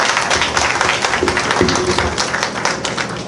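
Audience applause at a Haitian cultural poetry night, a steady crowd of clapping hands that fills the room for a few seconds and holds at an even level throughout.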